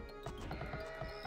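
Sheep bleating in the Age of Empires 2 strategy game, several short wavering bleats in quick succession over a steady game backdrop, moderately loud and clear, with no talk.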